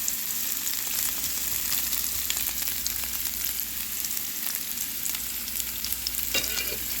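Onions caramelize in a pan over low heat, giving a steady, even sizzle with soft crackles running throughout and no one speaking.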